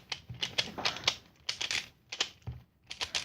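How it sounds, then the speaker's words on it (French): Pyraminx puzzle twisted by hand in rapid bursts of plastic clicking and rattling, several quick clusters separated by brief pauses, close and fairly quiet. "on commence par mélanger le Pyraminx n'importe comment"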